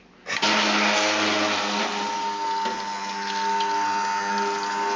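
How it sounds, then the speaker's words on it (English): A stick blender switches on and whirs steadily while mixing a batch of soap, a loud continuous motor drone with a churning liquid wash and no talking. "Stick blender, the magic."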